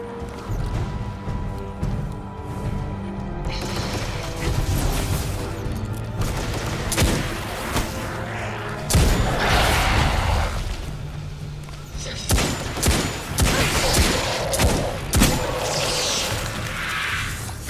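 Gunfire in the video game Destiny 2, bursts of rapid shots and impacts crackling loudly over a constant game soundscape for most of the stretch, denser toward the end.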